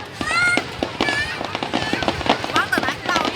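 Fireworks and firecrackers bursting during a Lunar New Year display at a national tourist area mountain in 2019, a dense run of loud cracks and whistling shells crackling without pause while people chat beneath.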